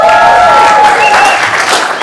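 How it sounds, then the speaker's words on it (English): Audience applause after a storytelling narration event, a loud, steady wash of clapping from a crowd that holds for about two seconds, with a few sustained tones and faint voices mixed in. "A round of applause for yourself."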